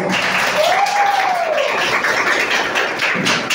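A room of people at a community event claps, a dense patter of applause continuing steadily throughout, with a brief voice-like tone rising and falling early on.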